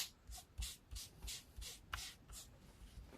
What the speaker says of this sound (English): So I simply took it, rubbed it on there like so.